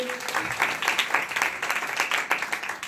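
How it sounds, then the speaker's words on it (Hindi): A church congregation applauds loudly and steadily, dense broadband clapping sustained throughout at close range, with some voices mixed in. "जोरदार ताली जाएंगे।"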